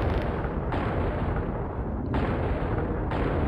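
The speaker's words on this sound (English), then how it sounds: "Yes, a man in a kilt is shooting you in the back." Gunfire in Fallout: New Vegas, a dense and loud continuous roar of shots and blasts filling the short stretch without letup, heard alone with no talking.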